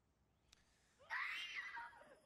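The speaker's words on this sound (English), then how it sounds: "Who's screaming?" A sudden, loud scream from a scene in the film The Hunger Games, set in District 12, rising after a brief click and holding for about a second before trailing off, with no talk over it.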